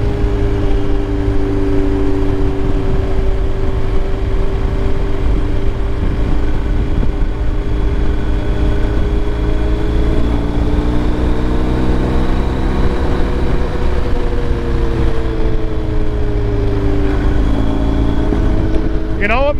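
Steady engine drone from a 2023 BMW R 1250 GS Adventure motorcycle on a ride, loud and continuous with wind noise, its pitch rising and falling through throttle changes and gear shifts.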